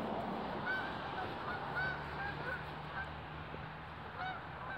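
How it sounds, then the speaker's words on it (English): Outdoors, a flock of geese honks repeatedly in scattered calls of varying distance, some near and some farther off, over steady background noise with no speech. "Hey, you hear those geese?"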